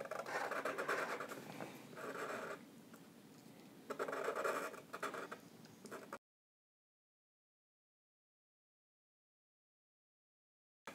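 A pen scratches across paper in short, close strokes with brief pauses between them, then the sound stops and silence follows.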